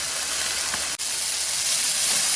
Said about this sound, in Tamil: ஒரு 3 நிமிஷம் கொஞ்சம் வதக்கணும்